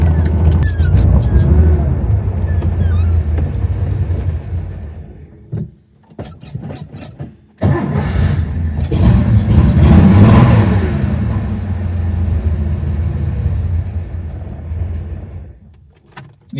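A Porsche 911 engine runs close by with a rough, throaty tone while driving, rising in revs, dropping away briefly twice, then surging loudly again before fading near the end.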